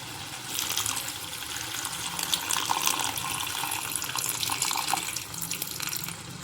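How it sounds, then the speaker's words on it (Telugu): Tamarind juice poured into a simmering dried fish curry, a steady close splashing, gurgling liquid stream lasting several seconds with no talk. "ఇప్పుడు చింతపండు పులుసు వేసుకుందాం"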